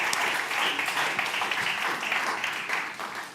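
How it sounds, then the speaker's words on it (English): Audience applause at a conference session on Indian Ocean heritage and sustainability at Expo 2020 Dubai, steady dense clapping from a seated crowd heard close and loud for a few seconds, tapering slightly at the end. "And a round of applause, please, for the next session."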